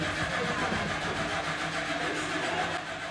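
A Radical race car with an engine fault starts up roughly, its engine note loud and continuous, uneven and rumbling throughout at close range.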